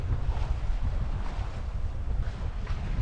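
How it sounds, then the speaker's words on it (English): Steady wind of about 12 to 15 knots rushing over a sailing boat, with a constant low buffeting rumble and soft water wash, no voices. "Between 12 and 15 knots of wind"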